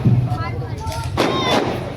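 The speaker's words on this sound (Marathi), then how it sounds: "एवढे फटाके वाजताय" Firecrackers bursting at an outdoor political corner rally in Kopargaon, heard as a dense run of loud, close cracks and thumps that swell around the middle. Crowd noise and a voice mix in underneath.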